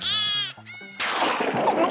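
Sheep bleating in a children's craft show scene, two loud harmonic bleats up close followed by a burst of bright noisy sound, with no talking.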